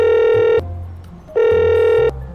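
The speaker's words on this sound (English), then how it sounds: "It's ringing. It's going through." A phone rings on a call in the video game GTA 5, two steady electronic ring tones, each lasting about half a second with a short pause between, loud and clear and without talk.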